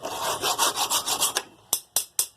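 A rusty u-joint shaft from a second-generation Ram 1500 is scrubbed in quick, rhythmic rasping strokes, about a dozen in a row, followed by three slower, separate swipes.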